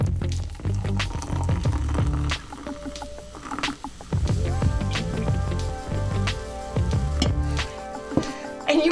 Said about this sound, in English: I'm gonna pour half of this into my cup.